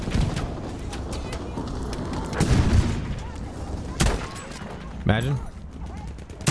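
Scattered gunfire in Battlefield V: sharp close shots and distant cracks spread irregularly across a busy battlefield ambience, with a brief voice heard over it.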